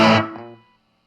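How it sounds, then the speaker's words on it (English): An electric guitar played through a distortion pedal and amp with tone set high and gain moderate, one loud crunchy chord struck and quickly decaying to silence. "for the distortion pedal that I'm using, I put tone to about an 8, but scaled distortion back to about a 3"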